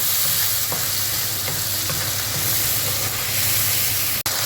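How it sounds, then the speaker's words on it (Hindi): Spices fry in a pan for chota paya, a loud, close, continuous hissing sizzle with faint stirring scrapes and a single sharp knock near the end. "इसको 2-3 मिनट भूनेंगे पहले इसी में।"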